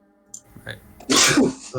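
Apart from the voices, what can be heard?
sneeze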